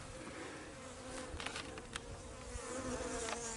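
Honey bees buzzing around a newly set-up beehive, a steady, dense drone with a few individual bees passing closer, outdoors with no talking.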